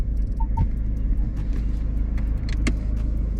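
A car creeps along slowly during a mock driving test, its low engine rumble steady and close, with a brief higher rattle near the end and no talking.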